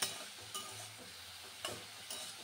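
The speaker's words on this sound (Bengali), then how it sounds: "নুনটা দেওয়ার পরে আবার একটু ভাজতে হবে।" Maggi noodles frying lightly in a pan after salt is added, Pahadi street-food style: a soft, steady sizzle with a few sharp stirring scrapes of a utensil against the pan, quiet and close with no voices.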